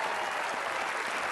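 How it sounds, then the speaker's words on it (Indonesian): Studio audience applause on an Indonesian television game show, a dense continuous wash of many hands clapping, steady and fairly loud throughout without a break. "Ya, tepuk tangan tuh Mbak Ilmi ya"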